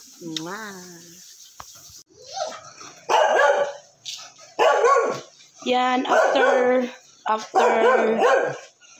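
Several dogs bark and yip in repeated loud bursts near the listener at a home in the Philippines, with a person speaking between and over the barks.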